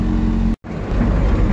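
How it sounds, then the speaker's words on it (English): A Toyota AE86 with a freshly repaired transmission drives on a test run; its engine and road noise roll steadily and loudly, broken by a brief dropout before resuming. "I guess I'll just go for a test drive real quick."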